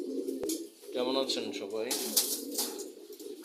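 Female pigeons being let out coo softly in low, rolling calls close by, while someone speaks over them.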